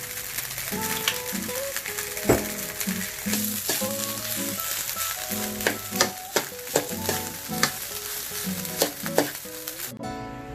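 Rice is stir-fried with soy sauce in a pan, a constant loud sizzle broken by repeated scraping knocks and clacks of a utensil against the pan in an irregular rhythm, close up and without speech.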